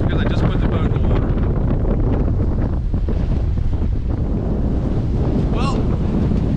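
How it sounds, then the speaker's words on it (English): Strong wind buffets the microphone out on open water beside a small fishing boat just launched for flounder drifting, a constant loud roar with waves lapping beneath it and a brief whistle partway through. "This is windy."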